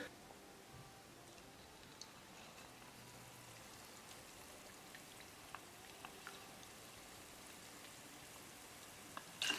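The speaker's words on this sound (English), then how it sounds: "So I'm going to deep fry the fish in the same way." Fish pieces for pakora deep fry in hot oil with a soft, steady crackle like light rain, with small sharp pops scattered throughout and a brief louder clatter at the very end.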